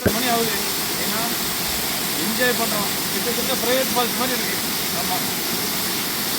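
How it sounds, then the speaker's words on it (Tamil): Courtallam waterfall pours in a constant loud rushing hiss, with people's voices and shouts mixed in over the steady roar of the water. "நின்று குளிக்கிறதுக்கு ஏதுவான ஒரு அருவி நீர் பாய்ச்சல் ரொம்ப அருமையா இருந்தது"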